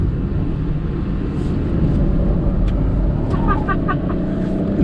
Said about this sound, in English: how good is the Altroz on a curvy road, I'm just driving on a pocket road